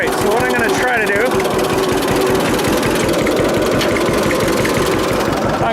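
A 1946 John Deere AR tractor engine runs steadily up close with a loud, rhythmic low chugging, and a person speaks over it.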